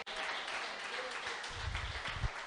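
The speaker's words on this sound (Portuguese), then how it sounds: "aplauda Ele nessa noite" A church congregation at an evening worship service applauds in a steady wash of clapping, fairly distant, with a few heavier low thumps near the end.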